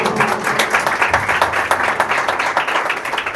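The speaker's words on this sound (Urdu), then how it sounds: "زوردار تالیاں" Loud applause from a church congregation during a sermon, dense rapid clapping close by and continuous for a few seconds.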